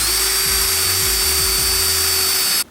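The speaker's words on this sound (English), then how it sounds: "I'm going to the center and I'm drilling my first hole." Power drill boring a hole into a wooden stud for a wall-mounted easel, a steady loud motor whine with repeated brief load dips as the bit bites, cutting off abruptly at the end.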